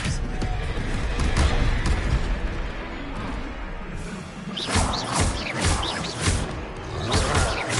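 An Expelliarmus disarming spell fires during a duel in Hogwarts Legacy, loud crackling blasts and whooshing bursts in repeated surges over several seconds, with heavy impacts and sparkling high-pitched flourishes.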